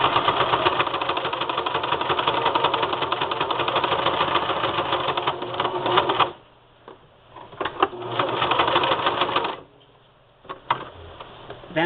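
A sewing machine straight stitching across the center of a small circular spool knit rug: a loud, close, steady whir for about six seconds, then a short pause, a second run, another stop, and a restart.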